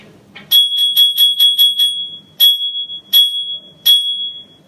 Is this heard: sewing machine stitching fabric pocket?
no